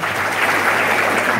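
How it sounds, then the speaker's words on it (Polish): Applause at a school gymnasium ball dance show, dense and steady clapping from a crowd filling the whole short moment without a break. "Wielkie brawa!"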